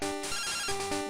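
Telephone ringing in the video game Pokémon Gold, a short electronic ring tone of layered buzzing pulses, heard alone without talk.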